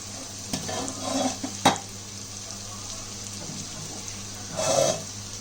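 Rice is stirred into a frying spice paste in a pan, giving soft scraping and sizzling with a sharp clack, and a louder burst of sizzle near the end.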